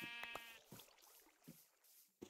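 Sheep bleat in a survival video game, three or four short cries spread across a couple of seconds, fairly quiet and alone with no talk.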